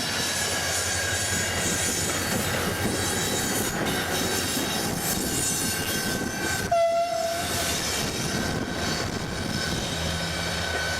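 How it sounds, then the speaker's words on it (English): A train passes close by in Portugal or Spain, a loud sustained rumble and clatter of rail cars with a brief horn tone partway through, no voices. "At the last minute here, got a train coming by."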